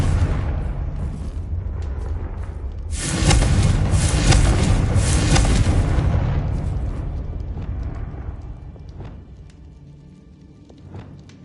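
A Confringo blasting curse in Hogwarts Legacy goes off as a loud, booming explosion that swells suddenly and then rumbles down over several seconds into quieter game ambience.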